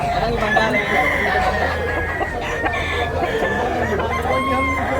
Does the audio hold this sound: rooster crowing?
yes